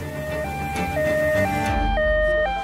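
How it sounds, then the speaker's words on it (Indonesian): An ambulance siren wails in alternating two-tone steps, loud and clear, over a low vehicle rumble, the pattern repeating several times as the vehicle draws near. "Ambulan sudah tiba."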